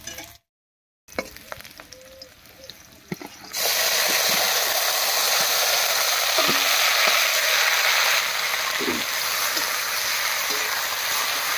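Leafy gourd greens (lau shak) hitting a pan of fried onion, garlic and green chilli in a Bengali home kitchen, a loud steady sizzle with scattered stirring clinks after a brief quiet start.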